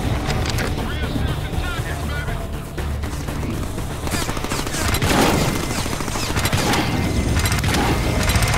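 Shotgun blasts in the Deadpool video game, repeated and loud, buried in a dense, roaring wash of game action and effects that runs without pause.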